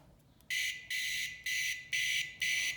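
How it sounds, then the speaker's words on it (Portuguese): A microwave oven control board buzzer gives five loud, shrill beeps in a regular pattern, close up on a repair bench with a faint hiss between them. "Fica fazendo barulho no buzzer."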